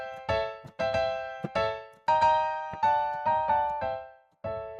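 Parallel major triads move in octatonic planing, played as a series of sharp, ringing chord attacks, about nine in quick succession, each decaying before the next, with no talking.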